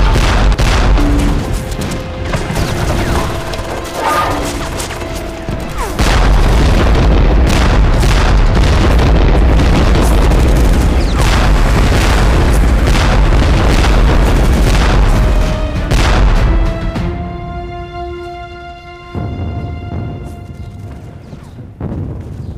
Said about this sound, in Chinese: 尝尝被炮轰的滋味。